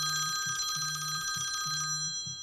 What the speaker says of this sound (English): he got another phone call.